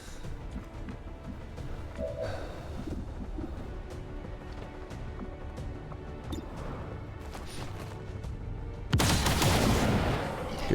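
Gunfire in the strategy game XCOM 2: a steady wash of battle noise throughout, then a loud burst of shots near the end that fills the whole range and stays heavy to the close, with no one talking.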